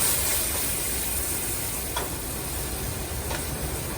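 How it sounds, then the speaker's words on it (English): A cup of wine hits a hot pan during cassoulet cooking, producing a loud, steady sizzling hiss that holds for several seconds with a couple of faint clicks and no talk. "So I'm going to add my 1 cup of wine."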